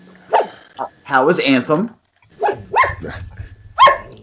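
A dog barks and growls in short bursts close by, mixed in with people talking over it.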